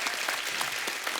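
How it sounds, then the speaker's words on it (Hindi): Applause from an audience, steady and fairly loud, with brief bursts of clapping throughout and no voices. "तालियां होनी चाहिए।"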